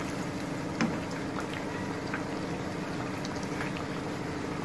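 Egg and bread cutlets frying in oil in a pan make a steady, faint bubbling crackle that runs evenly throughout, with one small knock near the start.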